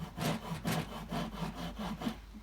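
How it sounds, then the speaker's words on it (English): Rhythmic back-and-forth rasping and sanding strokes on chainsaw-carved wood, about six even strokes at close range, with no talk. "I'm just going to sand and rasp away"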